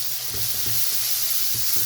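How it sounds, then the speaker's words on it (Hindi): Masala spices frying in a pan for a spinach and milk dinner dish with tomatoes, a steady close sizzle with soft stirring scrapes recurring every half second or so. "अच्छी तरह मसाला भून लूँ।"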